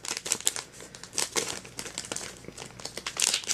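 A CardFight Vanguard booster pack wrapper being torn open, with close, crisp crinkling and ripping of foil plastic in quick irregular bursts, no talking.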